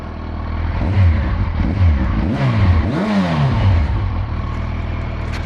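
A 2012 Yamaha FZ8 50th anniversary motorcycle engine revs up close in several rising and falling surges, shifting gears as it pulls away from first gear.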